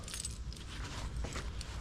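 Keys jangle in short, faint metallic bursts over a low rumble, quick clinks scattered through under two seconds with no voices.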